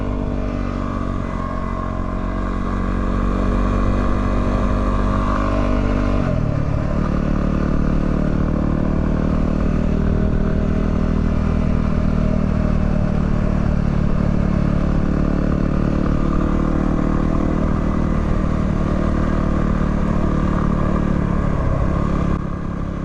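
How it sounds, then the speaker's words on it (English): A Yamaha WR250R motorcycle rides off-road behind a BMW F650 GS, its engine droning loud and continuous with wind rumble, the pitch shifting as the throttle changes. "watching myself ride off-road with a F650 GS in front"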